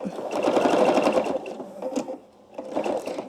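Sewing machine stitching quilt binding, a close, fast buzzing run of stitches that slows, pauses briefly and then starts up again.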